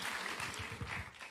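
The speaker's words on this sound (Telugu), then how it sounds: "అందరూ చప్పట్లు కొడదాం." Guests at a Telugu Christian wedding in Israel applauding: a brief stretch of moderate clapping with low thumping beats, fairly even throughout.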